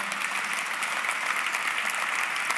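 A church congregation breaks into steady, dense applause, a full wash of many hands clapping at once that holds even and loud throughout with no pauses.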